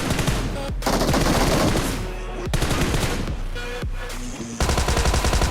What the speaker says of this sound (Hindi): इसका टीममेट भी मेरे पे फायर करता है